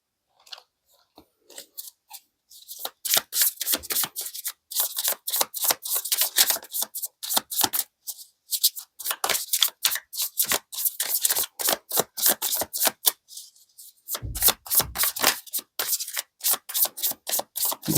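Tarot cards being shuffled for a reading give a steady run of crisp, close riffling and slapping clicks, packed into quick flurries with brief pauses between.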